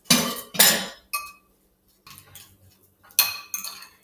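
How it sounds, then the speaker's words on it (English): A fork clinks and scrapes against a bowl while mashing and mixing guacamole ingredients, in several loud, close bursts of metallic clatter separated by short pauses. "Now with a fork, I smash all the ingredients and mix them all together."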